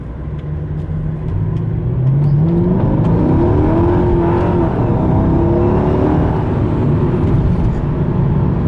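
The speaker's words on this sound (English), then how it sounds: "I do a little bit of acceleration here, just a short one." A Mercedes E55 AMG accelerates in a short burst from inside the cabin, its loud engine rising in pitch through the gears as a whining drone and then holding steady.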